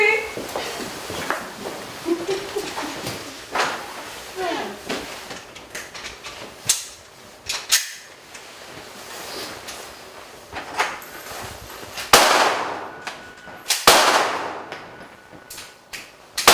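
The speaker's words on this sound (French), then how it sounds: "La ligne de feu est ouverte. Vous pouvez charger et feu à volonté." Sharp gunshots on an outdoor shooting range in Estrie, Quebec, with two loud, close cracks near the end following scattered fainter shots and handling noise amid background voices.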